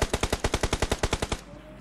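A video-game machine gun fires a rapid, steady burst of about fourteen evenly spaced shots, loud and close, then cuts off abruptly into quiet.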